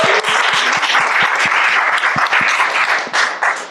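Steady applause from an audience at a university lecture on climate change and cities, dense overlapping hand claps holding loud and even throughout with no speech over it.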